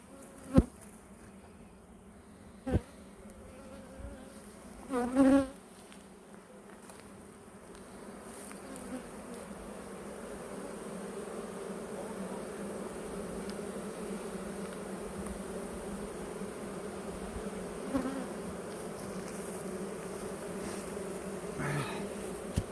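Honeybees at a hive drone in a continuous close buzz, with a few sharp knocks and clatters from hive equipment near the start.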